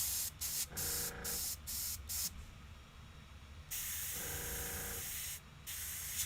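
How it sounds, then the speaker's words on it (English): Airbrush driven by a compressor with a poor seal between nozzle and body, blowing loud close hisses of air in on-and-off bursts, mixed with a buzzing compressor hum. "I'm not getting a good air seal between the nozzle and body of the airbrush"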